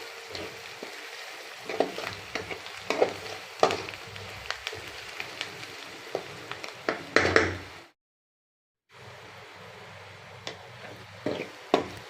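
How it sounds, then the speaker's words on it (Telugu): Onions and curry leaves fry in a pan for an egg garlic-chili dish, a steady close sizzle with intermittent scraping stir clicks, cutting out briefly near the end before the crackle resumes. "ఉల్లిపాయలు, కరివేపాకు బాగా వేగాయండి."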